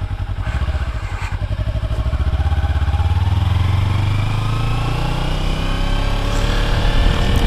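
A 300 motorcycle engine runs close and loud, starting with a pulsing idle-like throb and then revving up into a steady, rising drone.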